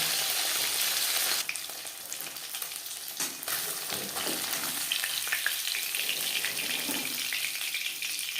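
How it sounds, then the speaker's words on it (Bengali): Khoira fish frying in hot oil in a pan, a steady close crackling sizzle throughout, with brief stirring or turning noises partway through and no talking. "একটা সাইড ভাজা হয়ে গেলে অপর সাইডটা উল্টে দেবে"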